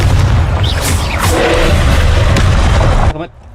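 A Confringo blasting curse explodes in the Hogwarts Legacy game, a loud booming blast with sustained rumble that cuts off abruptly near the end.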